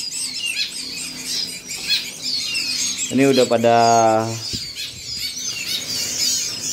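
Caged songbirds, including Java sparrows, bulbuls and a white-rumped shama, chirp and twitter continuously at a bird market, bright busy calls heard throughout while someone speaks nearby with a loud harmonic voice in the middle.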